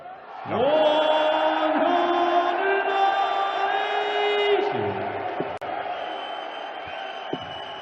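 A darts crowd at the 2018 Danish Darts Open roars in sustained unison, a loud chanting and cheering mass of voices that swells, holds for several seconds, then breaks off.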